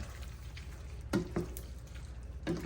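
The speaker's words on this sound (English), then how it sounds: "Then you're just gonna mix it up. Stir it up." Pressed plantain and saltfish sizzling in a pan while being stirred, a steady low frying hiss punctuated by a few sharp scraping clinks of the utensil against the pan.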